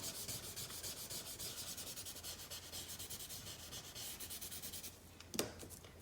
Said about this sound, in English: then I'm going to take like a bigger stump and just kind of blend this thing out